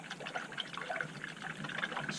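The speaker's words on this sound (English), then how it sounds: "Take this water, swish it around" A makeup brush swishes around in a small amount of water, giving faint, close, irregular liquid sloshes and drips throughout.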